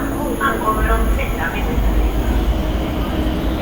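A Stockholm subway train rumbling along the tracks, with a loud, continuous low roar and a faint high whine, while people talk over it.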